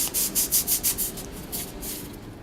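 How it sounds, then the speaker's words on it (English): Fine 600 grit sandpaper rubbed very gently over a small wooden hex box, a soft hissing scrape in quick, even strokes, about seven passes and then a steadier rub, close and quiet with no talk. "take a little bit of 600 grit sandpaper and extremely gently just rub it a bit to take the hair down"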